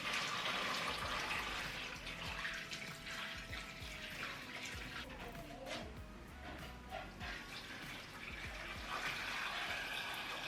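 Very hot water runs and splashes steadily into a basin where a bedspread soaks with baking soda, a continuous close rushing pour with faint drips and no talk.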